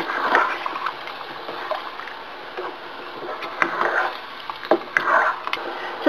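Coconut milk being stirred into pork for Bicol Express in a pan, giving wet sloshing and splattering scrapes in uneven bursts, close and moderately loud, with no talking.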